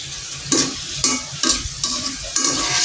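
French fries frying in a pan of hot oil, a steady loud sizzle broken by regular stirring scrapes about every half second, with no voices.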